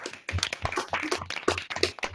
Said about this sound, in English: I now warmly welcome you to unmute yourselves and cheer and clap for each other and celebrate.